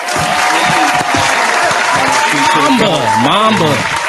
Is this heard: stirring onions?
no